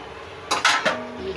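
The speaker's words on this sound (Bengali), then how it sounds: "এবার আমি ঢেকে দিচ্ছি," A metal lid goes onto a cooking pot of chicken and potato gravy, two or three quick clanking knocks in a row, close and sharp, then quiet.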